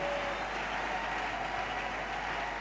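A congregation at a farewell church service claps together, a soft, even wash of applause held at a moderate distance for a couple of seconds.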